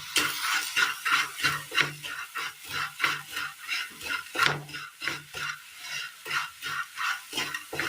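Grated jaggery melts in a pan while a spoon stirs it in a steady rhythmic scraping, one stroke roughly every half second, close and clear with faint sizzling beneath.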